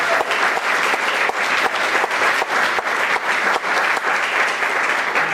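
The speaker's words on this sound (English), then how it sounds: "So please give her a big round of applause." An audience at a school board meeting applauds a student soloist, a dense, steady burst of clapping from many hands filling the room for several seconds.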